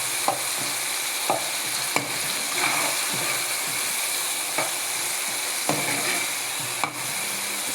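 Ginger garlic paste sizzles steadily in hot oil for a mutton and drumstick curry, a constant close frying hiss broken by regular sharp scrapes and taps of a spoon stirring the pan.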